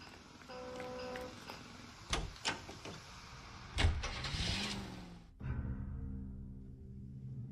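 A car in L.A. Noire: door and mechanism clunks, an engine turning over and humming, then a steady low engine drone as it pulls away.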